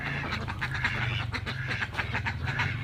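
Ducks quacking busily while eating rice, a rapid overlapping series of nasal calls from several birds close by over a steady low background hum.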